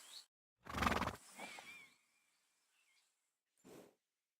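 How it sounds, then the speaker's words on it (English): A horse neighs in the game Kingdom Come Deliverance 2: a loud close whinny burst, a shorter snorting follow-up, then a brief faint whinny after a pause, with no talking. "I'll get the horse ready for you and teach you to call him over."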